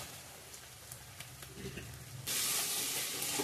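Chicken sautés in a hot pan at home, first a soft sizzle with occasional stirring clicks, then a sudden surge into a loud, bright, steady hiss partway through.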